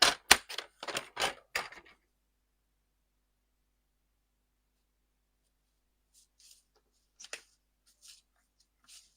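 Scissors snipping through paper card for a craft project: a quick run of crisp close cuts, then a long silence followed by a few fainter, scattered snips.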